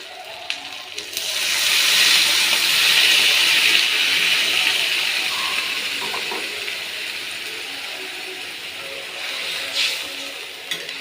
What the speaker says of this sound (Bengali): এবার আমি এতে জল ঢেলে দেবো